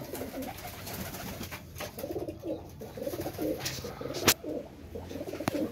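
Slate-grey pigeons coo softly in repeated low throaty phrases nearby, with background noise and a couple of sharp clicks.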